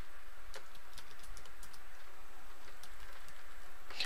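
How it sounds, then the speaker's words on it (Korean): Keystrokes on a computer keyboard during spreadsheet data entry, a scattered series of light clicks at an uneven pace over a steady quiet background hum. "여기선 탭키 눌러서 이동을 하시면 돼요"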